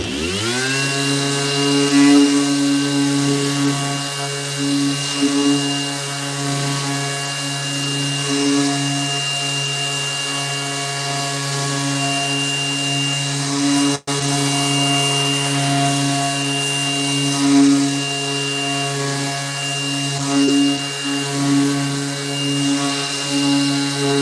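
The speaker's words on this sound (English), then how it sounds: "You guys like the sanding part, huh?" Power sander running steadily on a wooden cutting board during a woodworking session, a loud continuous motorized whine with a strong droning hum that holds for the whole stretch, with only a momentary dip partway through.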